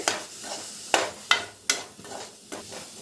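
Coriander powder and garam masala are stirred into a pan for a Tamil-style fish fry, with a faint sizzle underneath and a few sharp scrapes and knocks of the spoon against the pan spaced irregularly.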